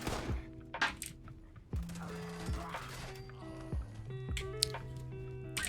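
Reloading an MG42 machine gun in Fallout 76: a series of heavy metallic clunks, slides and clicks spaced irregularly, close and fairly loud, with faint game tones in the background.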